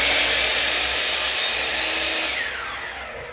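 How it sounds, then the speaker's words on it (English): A big miter saw in an old wood shop bites into a board, a loud, close, high whining cut that holds steady and then winds down as the blade spins off. "Let me fire up this big saw here and just come down this thing just a smidge."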